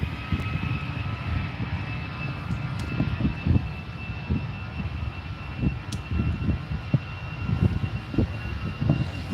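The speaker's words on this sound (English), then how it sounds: "EasyJet on the roll" EasyJet airliner on its takeoff roll at Manchester Airport, a rumbling engine roar with pulsing low throbs and a thin steady whine, moderately loud and unaccompanied by speech.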